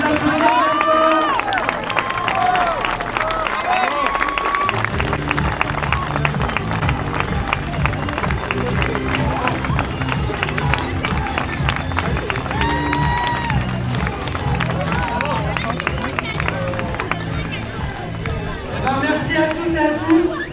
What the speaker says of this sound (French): On peut les applaudir maintenant.